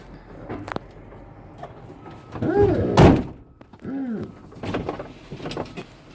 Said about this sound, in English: Can I have somebody close this hood for me?